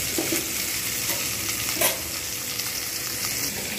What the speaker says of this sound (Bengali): আমি মাছটাকে যতটা পারি একটু ভালো করে ভেজে নিই